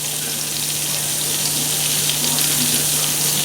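Butter melting and foaming in a pan for lobster thermidor, a steady hissing sizzle close by with a faint low hum underneath and no talk.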